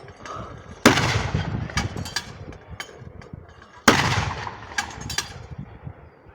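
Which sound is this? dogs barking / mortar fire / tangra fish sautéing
mortar fire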